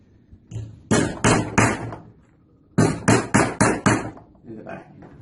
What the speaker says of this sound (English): a 4-inch steel nail to make the hole for the bands